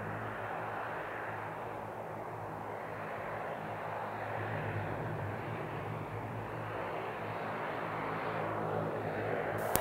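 A De Havilland Dash 8 turboprop departing on its takeoff run produces a loud, continuous engine and propeller roar that holds steady throughout.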